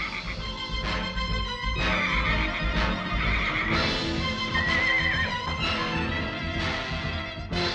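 A horse neighs and whinnies repeatedly in loud, shrill bursts over a busy rumbling background, several calls in quick succession.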